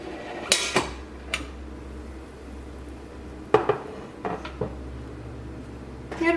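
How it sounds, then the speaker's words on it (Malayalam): A pressure cooker used for baking a chocolate cake is opened in a kitchen: a few sharp metallic clanks and knocks of the lid and pot, spaced out over a quiet background hum. "നമുക്ക് കുക്കറൊന്ന് തുറന്ന് നോക്കാം."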